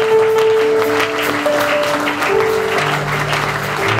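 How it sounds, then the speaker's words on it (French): Church congregation at a Pentecost service applauding and cheering for God, a steady dense wash of clapping and crowd noise with sustained sung or shouted tones running through it. "qu'on puisse non simplement acclamer pour Dieu, mais acclamer pour vous-même"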